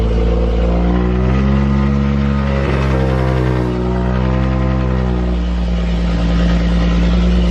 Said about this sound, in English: I'm gonna go ahead and give the car a quick startup.